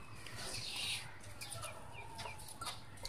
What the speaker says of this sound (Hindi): मुर्गे से तो बहुत डरता है हैरी